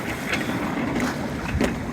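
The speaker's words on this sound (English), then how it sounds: "The waves generated by the wind are virtually not moving forward. They're basically just rising, breaking and" Wind and breaking waves against a sailing boat at sea off Queensland in wind-over-tide conditions, heard as a constant loud rush of wind and water with a few sharper splashes and no voices.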